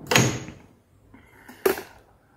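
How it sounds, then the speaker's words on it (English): A microwave oven door opens with a sharp click and clunk close by, followed by a faint rattle and a second latch-like click moments later. "And we open the door."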